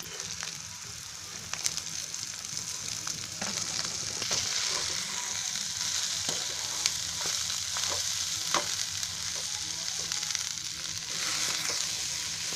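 Finely chopped cabbage stir-fries in a hot pan, giving a steady close-up sizzle broken by repeated sharp scrapes and clicks of a spatula, with no voices.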